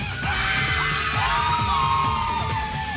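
A studio audience at a televised singing competition screams and yells for the singer, a dense continuous wall of shrill cheering and whoops with a steady rhythmic thump underneath.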